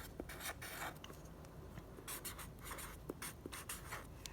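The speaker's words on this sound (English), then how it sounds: "I'll just write in a reason." A pen writes a reason on paper, giving close, quiet scratchy strokes in short irregular bursts with small pauses between words.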